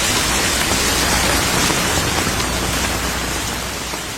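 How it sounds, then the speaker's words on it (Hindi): Heavy rain falling in a dense, constant hiss of drops on surfaces, loud and steady throughout with no voices. "वर्षा करवा दी"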